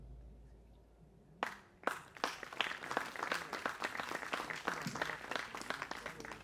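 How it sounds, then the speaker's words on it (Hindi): After a quiet pause at the 60th-anniversary celebration of Ravindra Manch theatre in Jaipur, a few sharp claps start a growing round of audience applause that swells and holds to welcome the main performer. "और अब आप सभी की तालियों के साथ हमारी आज की मुख्य कलाकार स्वाति चंद्रशेखर"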